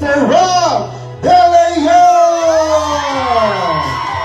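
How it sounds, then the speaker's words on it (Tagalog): Guests at a 25th birthday party clap and shout for the celebrant, a burst of whoops and yells breaking out after a host's amplified voice, with cheering voices carrying on loudly and close. "Palakpakan natin na may kasamang sigawan ang ating Saing King"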